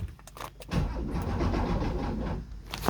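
A barn-find Porsche 911 engine cranks on a weak battery: a few short clicks and tries, then a sluggish, labored starter churning for about two seconds without catching, close and fairly loud.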